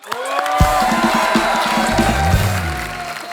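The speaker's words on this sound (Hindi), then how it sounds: "परी के लिए जोरदार तालियां।" Studio audience clapping on a Hindi comedy talk show, fairly soft and diffuse, partly mixed with music or tonal sounds underneath.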